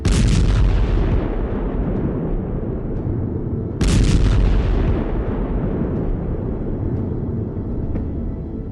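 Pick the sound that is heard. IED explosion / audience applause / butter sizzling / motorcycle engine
IED explosion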